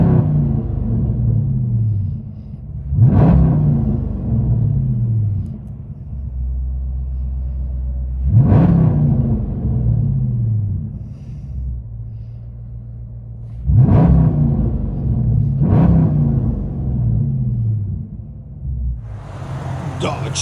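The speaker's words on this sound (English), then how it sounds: "now it's got custom exhaust, high flow cats, FLOWMASTER Outlaws, and carbon fiber tips" A Dodge Charger SRT8 with a 6.1L V8, high-flow cats and Flowmaster Outlaw exhaust burbles at a deep idle, broken by four sharp throttle blips that rise and fall, loud and close.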